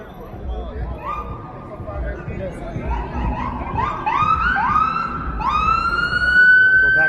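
Police car or ambulance siren wailing in downtown Toronto on a humid Friday night, rising sweeps that grow louder and nearer over crowd noise and street rumble, with people talking nearby.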